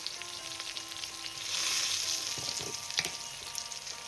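Flat bean curry with turmeric powder frying in a pan gives off a soft, steady sizzle that swells briefly, with a few scraping stirs toward the end and no voices.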